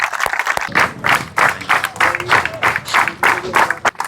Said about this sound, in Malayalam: എല്ലാവരും നല്ലൊരു ക്ലാപ്പ് കൊടുത്തേ